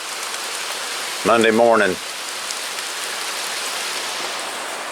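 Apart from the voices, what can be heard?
light rain falling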